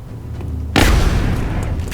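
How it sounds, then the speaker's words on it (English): A single heavy alloy cannon shot from a squad soldier in the video game XCOM: War Within fires with a sudden loud boom close by, then a rumbling, noisy tail fades slowly. "I am going to take this alloy cannon shot"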